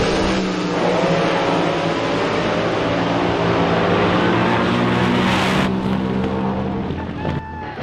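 An AA fuel Top Fuel dragster racing at Tulsa Raceway Park's NHRA Nitro Nationals, a loud sustained engine roar that cuts off suddenly and fades into quieter trailing sound near the end.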